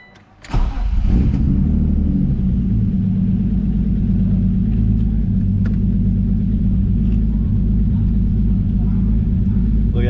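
A built single-turbo BMW E36 M3 fires up after a rod bearing job, then settles into a loud, steady, close idle rumble that runs without letup.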